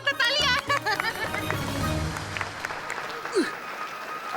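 A studio audience at a comedy fantasy TV show claps in a broad wash of applause, following a brief burst of musical stings and fading out with a few scattered sounds.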